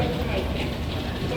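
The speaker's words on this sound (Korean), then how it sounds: "지하철을 타고 두 정거장만 가면 나카스 카와바타역에 도착해요." Steady, loud rumble and rattle inside a moving subway train in Fukuoka, heading toward Nakasu-Kawabata station, with a continuous roar of wheels and carriage noise and some speech mixed in.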